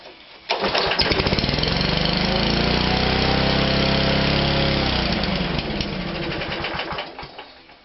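A Power Base NG464 petrol lawn mower, an old barn find, starts on the pull and bursts into a loud, close, rattling engine roar that runs steadily for several seconds, then drops a little and fades as it winds down.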